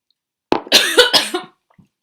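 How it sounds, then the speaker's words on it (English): Someone coughs after tea goes down the wrong pipe: a short burst of two or three harsh, close coughs, loud and alone, then quiet. "And then I'm gonna cough because it went down the wrong pipe."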